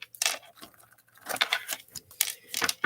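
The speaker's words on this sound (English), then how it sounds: "3 more shuffles." A deck of tarot cards is shuffled in several quick, crisp bursts of riffling and flicking, separated by short pauses, close and fairly soft.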